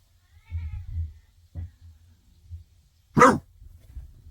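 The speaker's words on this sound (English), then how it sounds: "now my dog's barking" A pet dog gives a few short, muffled barks in a home, spaced apart, while cats fight nearby, with one louder sharp yelp standing out.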